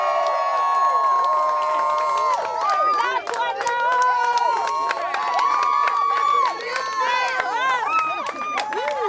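Wedding guests at Mulino's at Lake Isle, New York cheer the newlyweds just after they are pronounced man and wife, with sustained whoops, shouts and crowd noise filling the room.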